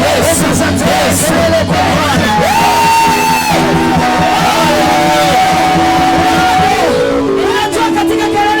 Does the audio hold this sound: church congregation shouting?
yes